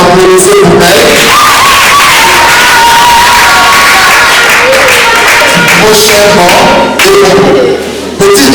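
An audience at a Congolese theatre applauds and cheers for a performer, a loud sustained crowd roar of shouts, whoops and clapping that dips briefly near the end before swelling again.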